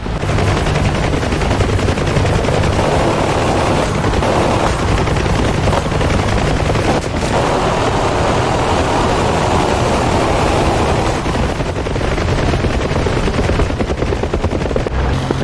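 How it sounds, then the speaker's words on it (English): Small arms fire in a DCS World combat simulation of the 1993 Battle of Mogadishu, a dense, continuous rattle of gunfire over a loud, steady helicopter roar throughout. "Still taking small arms fire here."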